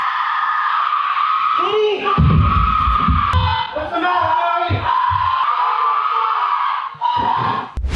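Screaming in the horror film Paranormal Activity: a woman's loud, sustained high scream runs throughout, shifting in pitch, with thumping and rough noises underneath.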